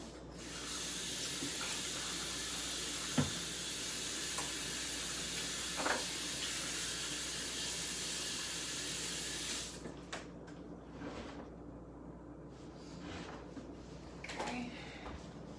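Kitchen tap water runs steadily onto hands being washed while making cake pop dough, a continuous hiss for about ten seconds before it shuts off, followed by a few faint clatters.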